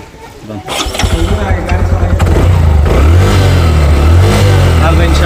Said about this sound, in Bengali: হুজুর আমাদেরকে এখন মোটরসাইকেল স্টার্ট দিয়ে দেখাবেন